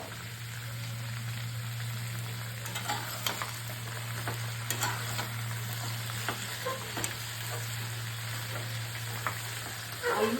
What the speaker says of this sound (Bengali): এটা পেঁয়াজ কলি, বেগুন, কুমড়ো, কচি কুমড়ো আর আলু দিয়ে একটু ভাজা ভাজা করবো।